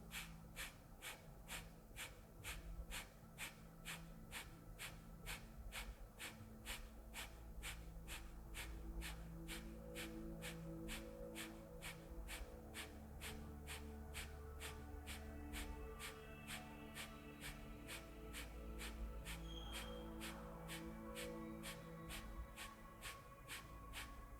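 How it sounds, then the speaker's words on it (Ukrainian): Kapalabhati yoga breathing, a long series of short, forceful nasal exhalations at a steady quick rhythm, close and fairly faint over soft background music, with no talking. "І з видихом капалабхаті в комфортному для вас ритмі без рахунку."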